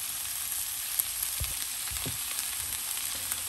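Vegetables fry in a pan with a steady, close sizzle throughout, broken by a few soft stirring scrapes and knocks.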